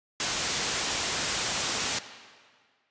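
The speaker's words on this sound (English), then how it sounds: "it's going to sound good when it loops over anywhere because it's white noise" A burst of loud, harsh white noise hisses steadily for nearly two seconds, then cuts off and fades away quickly.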